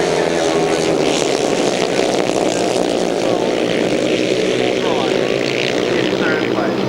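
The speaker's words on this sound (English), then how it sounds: "So then, the helicopter takes off" A helicopter takes off at a 1991 international grasstrack motorcycle race, its loud, steady rotor and engine roar filling the scene while a commentator talks underneath.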